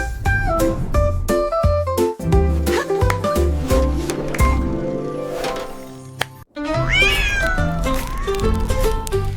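A cat meows repeatedly over layered music, the yowls rising and bending in pitch, fairly loud and close, with a brief pause before a final drawn-out cry.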